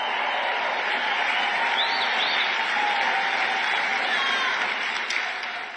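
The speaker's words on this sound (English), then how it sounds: "Uh-oh, is this cheer a little too loud?" A large rally crowd cheers loudly and without a break, its roar steady and dense from start to finish, with a few whistles and shouts rising above it.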